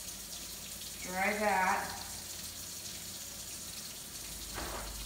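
Water runs steadily from a sink faucet in a nursing-skills setting, a faint continuous hiss beneath a person speaking briefly nearby.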